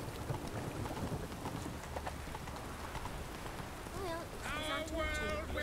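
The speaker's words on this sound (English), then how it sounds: "Mages caused the rain." Rain falls in The Witcher 3 video game, a steady dense hiss throughout with low rumbling underneath, joined near the end by a short tonal swelling sound.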